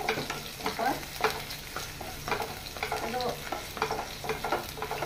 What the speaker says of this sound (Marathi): अशें बरें करून ताका फ्राय करून घेवपाचे